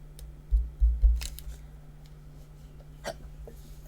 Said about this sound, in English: Excuse me, I've got hiccups now.